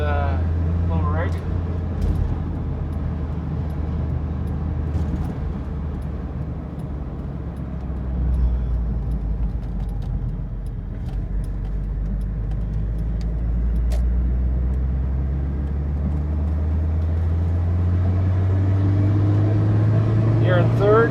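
A red 1985 Alfa Romeo cruises southbound on the I-5 freeway, its engine droning steadily from inside the cabin with rising pitch as it climbs through gears, road noise beneath and occasional talk between occupants.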